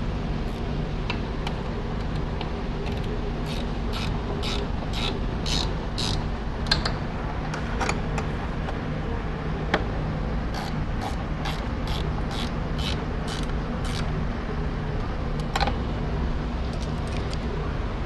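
Parts on an air skid being tightened give off close mechanical clicks and ratcheting creaks, arriving as irregular bursts of sharp ticks over a low steady background.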